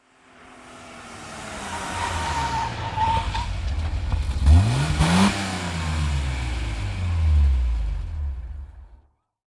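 A car slowing down: a loud, close engine roar that drops in pitch as it decelerates, with a brief tire squeal in the middle before the engine note winds down and fades out.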